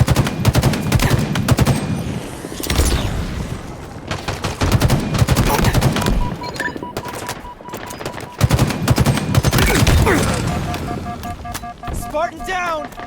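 Rapid gunfire in Halo Infinite, sustained machine-gun bursts and crackling shots layered with battle noise, punctuated by sharp pings and electronic tones late on.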